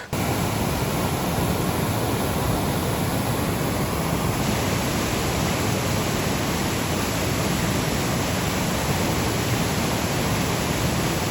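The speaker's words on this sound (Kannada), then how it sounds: "ಇದೇ ಬಂಡಾಜೆ ಫಾಲ್ಸು. ಹೆವಿ ನೀರಿದೆ" Bandaje waterfall in the Western Ghats pouring heavy water, a loud, unbroken roaring rush that fills the whole stretch with no voices.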